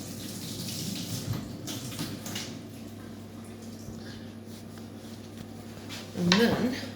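A peeled potato rinsed under running tap water, a steady close hiss with a few clatters and a louder splash near the end, with someone talking briefly.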